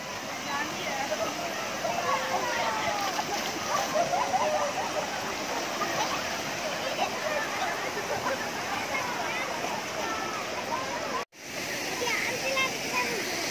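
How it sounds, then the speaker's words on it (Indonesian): Waterfall at Sibisa near Parapat roaring as a steady, dense wash of falling water heard from a distance, continuous throughout with a brief cut near the end and faint voices in the background. "Air terjun si bisa parapat."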